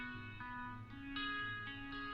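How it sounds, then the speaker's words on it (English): Guitar sample in FL Studio, treated with a rotary effect and pitched up slightly, playing faint, sustained chiming notes that shift pitch every half second or so, quiet and alone. "the guitar sounds like this right here"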